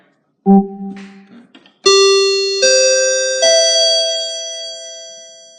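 A cruise ship PA chime sounds at the end of a muster drill announcement: a short low tone, then three rising bell-like notes struck in sequence, each ringing on clearly and slowly decaying, loud and close.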